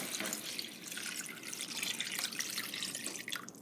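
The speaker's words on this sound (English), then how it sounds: "I'm going to add my water or the chicken broth." Water or chicken broth pours into a hot pan on a stove, a close, steady splashing and gurgling stream lasting several seconds, with no talking.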